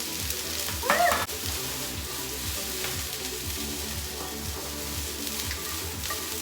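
Broccoli florets sizzling and frying steadily in a very hot pan, a dense continuous crackle close by with a brief louder burst near the start.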